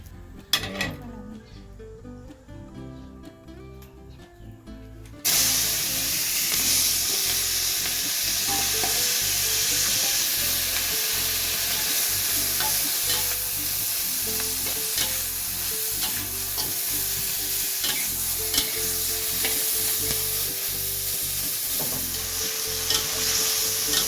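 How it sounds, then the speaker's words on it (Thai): Vegetables sizzle loudly in hot lard as they're stirred in a wok, with metal scraping and clinking against the sides; a quieter stretch comes before the sizzling starts. "วันนี้เราผัดด้วยน้ำมันหมูนะครับ"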